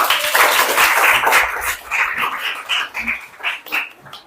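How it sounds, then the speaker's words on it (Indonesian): A classroom group claps for group 3: a burst of dense, close applause that thins out into scattered individual claps before fading. "Aplaus dulu untuk kelompok 3."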